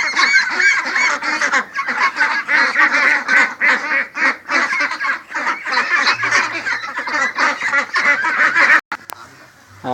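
Farm ducks raised alongside chickens quack and honk in a loud, crowded chorus of overlapping calls that runs continuously before abruptly dropping away near the end.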